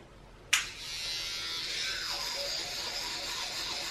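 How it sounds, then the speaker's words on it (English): An electric toothbrush switching on abruptly and buzzing steadily while a child brushes teeth at home, a close, continuous high whir with no talk. "Brush teeth."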